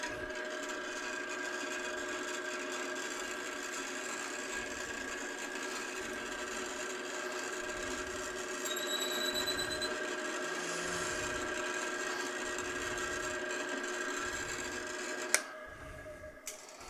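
A drill bores into wood with a 1/2-inch auger bit turning at 510 rpm in a garage, a steady grinding whir running for about fifteen seconds before cutting off abruptly.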